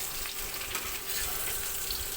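Meat set into hot oil in a pan gives a steady, even sizzle and crackle of frying, continuous and fairly soft, with no talk.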